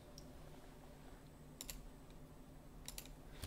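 A few quiet key presses on a computer keyboard, two short clusters of crisp clicks over a faint steady room hum with no speech.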